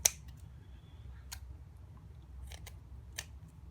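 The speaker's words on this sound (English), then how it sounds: "We will need to cut off and leave only 4 pins." Cutters snipping pins off an IC socket, a few sharp isolated clicks and snaps spread across a quiet background, close and crisp with no talk.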